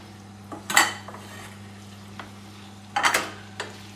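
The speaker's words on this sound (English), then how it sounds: "I'm going to stir it round until it becomes golden." Venison meat being stirred in a cooking pot for a casserole, a few separate scraping clinks of the utensil against metal, moderately close, with a low steady hum beneath and no talking.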